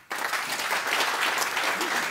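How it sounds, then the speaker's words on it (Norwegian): An audience at a climate breakfast debate bursts into applause, the clapping starting abruptly and holding as a dense, steady patter of many hands. "Applaus."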